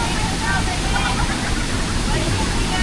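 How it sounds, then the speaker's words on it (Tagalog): Steady broadband roar of water plunging down a waterfall, close and continuous for the whole stretch, with no talk over it. "doon sa kabila na pinagbabagsakan ng tubig"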